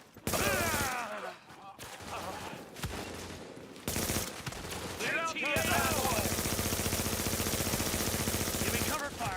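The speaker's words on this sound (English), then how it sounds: "Fire on target! Engaging! Firing now!" Gunfire in a video game shooter: rapid bursts of automatic fire and single shots, loud and close, broken by short gaps and then running continuously, with game voice callouts mixed in.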